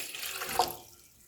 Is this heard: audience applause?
no